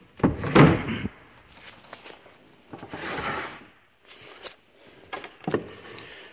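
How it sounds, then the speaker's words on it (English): Sliding cabinet doors in a closet are pushed open with a few thuds and rolling scrapes spread across several seconds, some sharp knocks near the start and end, with no other sound between. "Slide the doors open."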